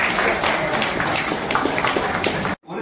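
An audience gives sustained applause to welcome the chief guest at a formal event. Steady, dense clapping continues for a few seconds before cutting off abruptly.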